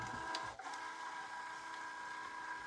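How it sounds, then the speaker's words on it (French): A vinyl cutting machine measuring its mat gives off a steady electronic whirring hum with a faint click near the start, close and continuous. "Ma machine est en train de mesurer le tapis."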